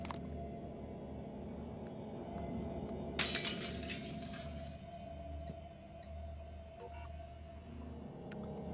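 A glass window smashing in the video game Prey, one sudden bright shatter with scattered tinkling fragments over a steady low ambient hum, and a small clink afterward.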